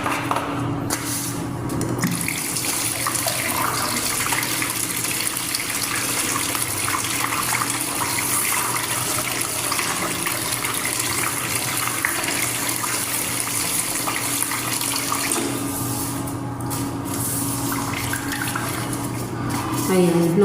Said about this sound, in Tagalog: Lilinisan ko din yung lababo.